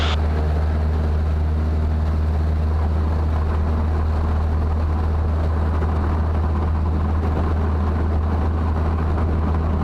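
A light aircraft engine runs at full throttle through the takeoff roll, a loud, steady low-pitched drone with a constant throbbing hum filling the cockpit, unbroken for the whole stretch with no talk over it.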